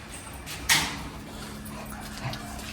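Dogs, German Shepherd and Akita, just after a fight: a quiet scene with one sharp yelping burst near the start, then a faint short whimper later.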